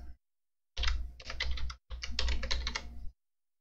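Two bursts of rapid, quiet clicking keystrokes on a computer keyboard in a quiet room, each lasting about a second, separated by a short pause.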